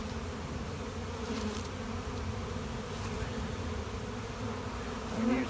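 Honeybees from a hive of two deep boxes hum in a steady, close drone that holds through the whole stretch, swelling slightly near the end, with no voices.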